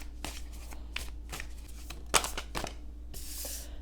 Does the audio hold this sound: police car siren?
no